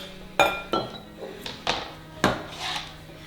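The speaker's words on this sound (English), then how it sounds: "so I'm just gonna use a bowl and we'll just put our veg into a bowl" Chopped vegetables for a white bean and veggie soup go into a bowl, giving four or five sharp clinks and clatters in quick succession, close and fairly loud.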